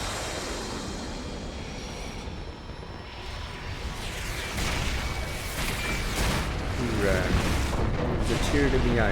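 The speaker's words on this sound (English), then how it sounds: "Fire missiles!" Missiles launch and explode in Last Defense Academy, a building roar of rumbling blasts and aircraft-like whooshes growing louder toward the end, with distant booms layered under a steady din.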